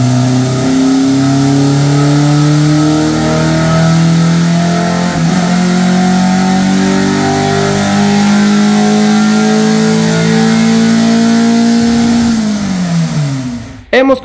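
A Suzuki Twin Cam engine running an ECU Fueltech setup revs hard on a dynamometer, a loud sustained roar climbing steadily in pitch for about twelve seconds before dropping off abruptly.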